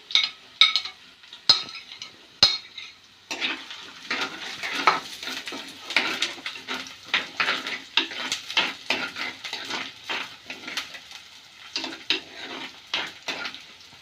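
Onion, ginger, garlic and green chilli fry for a Kerala-style fish curry while a spatula scrapes the pan in quick rhythmic strokes over a light sizzle, after a few sharp taps at the start.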